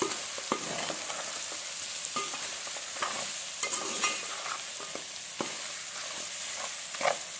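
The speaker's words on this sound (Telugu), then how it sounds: "మసాలా పొడి వేసి మొత్తం కలిపేటట్టు కలిపేసుకోండి" Mutton pieces being stirred with masala powder in a hot pan, a continuous frying sizzle with scraping strokes and occasional clicks of the spoon, close and moderately loud, no speech.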